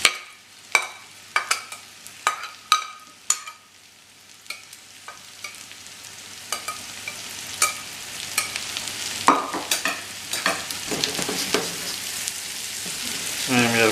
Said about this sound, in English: think it's about time to put the mushrooms in